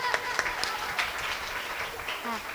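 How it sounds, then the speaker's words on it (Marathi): Men at the back of a village kirtan gathering in Sirajani clap sparsely, with a handful of distinct, fairly quiet claps over a low murmur, and a voice briefly audible near the end. "मागचे पुरुष वर्ग टाळ्या वाजवा ना थोडं"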